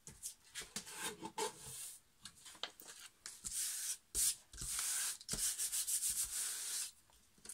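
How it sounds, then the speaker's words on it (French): A paper trimmer cuts through a glued paper napkin in a series of close, dry scraping strokes, some brief and some drawn out, with short pauses between. "je vais découper et je vais utiliser le massicot pour avoir un truc bien droit"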